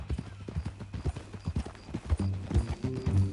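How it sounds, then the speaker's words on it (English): Horse hooves clip-clop at a steady walking rhythm in Red Dead Redemption 2, close and clear, with a short neigh or snort toward the end and no talking. "That new horse?"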